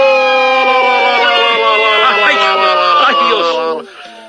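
An ambulance siren wails loud and close in layered rising and falling tones, sustained for several seconds before winding down and cutting off near the end.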